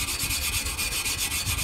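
Rust being scraped and sanded off an old metal tree-stand climber, a close, steady rhythmic rasping with quick repeated back-and-forth strokes and no talking.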